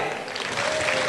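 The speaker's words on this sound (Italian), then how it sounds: "Ed eccolo qui l'applauso di Miss Bella di Marca 2013, l'applauso del pubblico per il pubblico." Crowd applause from a public audience at the Miss Bella di Marca 2013 beauty pageant in Feltre, a brief, steady burst of clapping from a large gathering.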